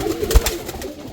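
A brief, close burst of low Giribaz pigeon cooing with a muffled thump partway through.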